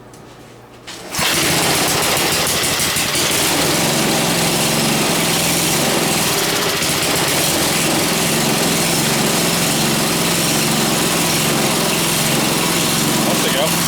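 An old Montgomery Ward snow blower engine, given a dribble of fuel, cold-starts after a brief quiet moment and then runs steadily, loud and close, with an even buzzing drone for the rest of the clip.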